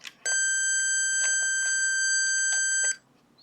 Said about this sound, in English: the buzzer sounds again.